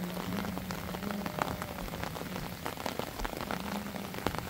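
Heavy rain falls on an outdoor sports court in El Salvador, a dense steady patter of drops with scattered sharper splashes, close and continuous.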